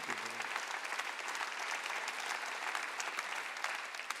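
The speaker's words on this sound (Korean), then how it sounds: "박수하세요" A congregation applauding during a Sunday church worship service, heard as an even, sustained patter of many hands clapping, moderately distant and fairly quiet, with no speech over it.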